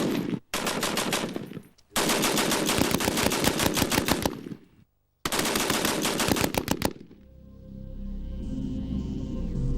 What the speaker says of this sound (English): Let's see what damage a machine gun burst from a Spitfire will do to it.